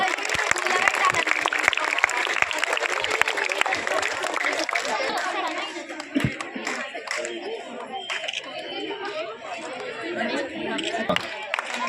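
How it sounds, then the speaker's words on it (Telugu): A crowd at the closing prize ceremony of an SGF school sports meet claps loudly and continuously, then the applause thins into scattered claps under busy chatter and voices. "గట్టిగా చప్పట్లు."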